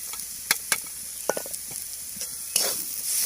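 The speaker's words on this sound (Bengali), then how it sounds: "একটু নাড়িয়ে নামিয়ে দেবো" Banana flower filling with spices and a little sugar is stirred in a frying pan, with a soft continuous sizzle and several sharp scraping clicks of the spatula against the pan, close up.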